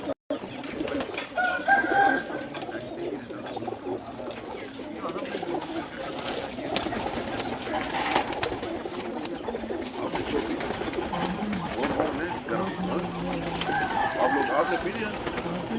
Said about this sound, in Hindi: जुनेद भाई वो खाकी कबूतर बाहर निकाल दें